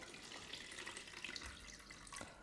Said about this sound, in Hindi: अब यहाँ पर हम इसका पानी रिमूव कर देंगे